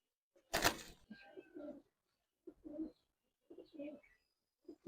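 Red-eyed Pallla-line pigeons coo in a few soft, low, rolling phrases with short pauses between, close by, after a brief rustling burst at the start.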